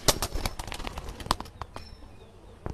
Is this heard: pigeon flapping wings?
yes